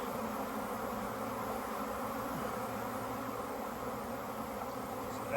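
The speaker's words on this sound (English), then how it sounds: "going to get the bees off the top of this honeycomb" A dense, steady hum of many honeybees buzzing close by on honeycomb during a hive inspection, continuous and unbroken throughout, with no voices.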